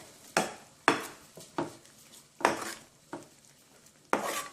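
A spoon stirs pasta with tomato, chicken liver and gizzards in a pot, giving six or seven sharp metallic scrapes and clinks at an uneven rhythm, close up, with no talk.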